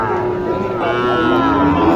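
Cattle low in long, drawn-out moos at a busy rural cattle market, loud and close, with a drone of crowd noise behind.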